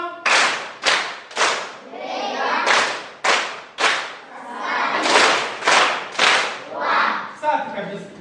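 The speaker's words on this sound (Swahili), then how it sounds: "Tutampigia makofi matatu kwa nguvu" Pupils in a primary school classroom clap loudly and sharply in repeated sets of three strong claps, with voices calling out between the sets.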